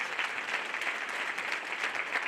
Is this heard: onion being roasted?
no